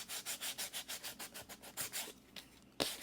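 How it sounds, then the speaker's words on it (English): Paper edges are rubbed with sanding material in quick rhythmic strokes, close and soft, each scrape a short rasp, with a few looser scratches toward the end. "my next step, I'm going to sand the edges"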